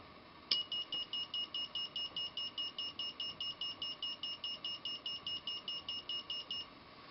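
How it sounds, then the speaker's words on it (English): Alarm on a talking paintball and airsoft timebomb prop with a timer and wire-cut mode, beeping in a steady rapid series of short, loud, high electronic tones that carry on for several seconds with no talk. "Now that alarm went off"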